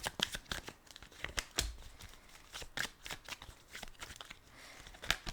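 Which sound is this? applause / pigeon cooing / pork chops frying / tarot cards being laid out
tarot cards being laid out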